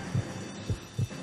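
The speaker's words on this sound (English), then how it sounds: "Feel my heart beating and everything." Heartbeat sound effect in the L.A. Noire video game: three deep, muffled thumps at a slow, even pace with a low hum between them.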